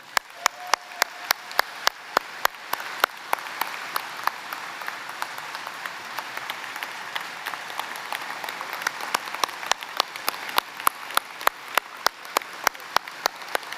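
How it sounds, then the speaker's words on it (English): Audience applause at a veterans' organization business session, a dense, steady wash of many hands clapping filling the room, moderately loud and sustained throughout with no talk. "Let's give another round of applause."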